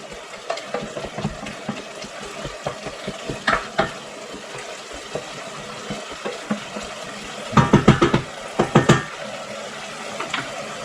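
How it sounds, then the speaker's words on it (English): A spoon stirs sausage risotto with onion, carrot and bacon in a pan, scraping the bottom. The scrapes and knocks are close and irregular, with a steady frying sizzle underneath and a louder cluster of scrapes near the end. "Make sure you stir it nicely, because at the bottom of the pan there's all the good flavors, so scrape them off."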